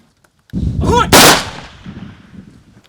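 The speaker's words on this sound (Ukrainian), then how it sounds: "пролунали постріли у повітря" A ceremonial volley fired into the air at a Ukrainian soldier's military funeral at a graveside, a single loud close blast with a sharp crack that rolls off into a fading outdoor echo.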